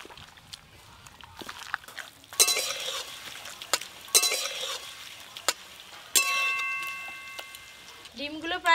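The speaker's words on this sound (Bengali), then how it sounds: "এবার হাত দিয়ে ভালো করে মাখিয়ে নেব।" Chicken pakora batter with two eggs, cornflour, gram flour, salt and spice powder being squished and mixed by hand in a bowl: soft wet squelches with scattered sharp clicks and a few brighter clinking bursts, close and moderately quiet.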